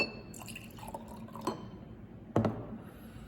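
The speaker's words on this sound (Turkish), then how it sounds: "Bir kısmını da buna aktaracağım." Ebru marbling paint is poured from one jar into a small 190 cc glass jar, giving quiet liquid trickles and a couple of distinct drips or splashes against the glass in a hushed room.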